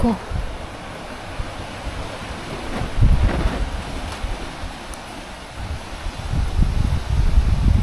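Strong wind buffets the microphone in rumbling gusts that swell and ease, louder toward the end, with faint surf-like roar behind.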